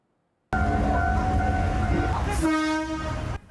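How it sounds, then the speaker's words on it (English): Retired late-1990s diesel locomotive, now a museum piece, rumbling loudly with a steady low drone, followed by a sustained horn blast near the end. "A retired diesel power locomotive from the late 1990s, now turned into a living museum piece ready to be back on track"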